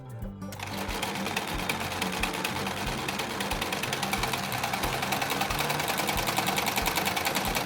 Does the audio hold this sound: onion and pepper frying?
no